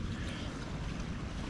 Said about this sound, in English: It's quite windy by my car.